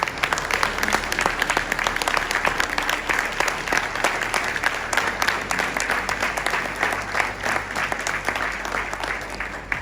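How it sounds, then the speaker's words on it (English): An audience claps steadily for members of a Ministerial Alliance at a school district Veterans Day ceremony, a dense, sustained round of applause with no voices standing out. "Let's give them a big round of applause."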